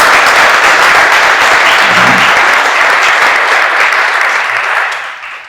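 Loud, sustained applause from a crowd at Boardman Civic's academic dinner, a dense wash of many clapping hands that holds steady and then begins to fade toward the end, with no clear speech over it.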